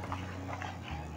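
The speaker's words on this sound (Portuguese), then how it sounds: "O cachorro latindo como sempre, né, gente?" A dog sounds briefly at home, a short canine vocalization over low background hum.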